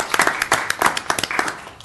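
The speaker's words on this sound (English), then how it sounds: "they still get an applause, right?" A small group at a city historic resources commission meeting claps briefly after a motion passes, a short burst of loose, scattered hand claps close by.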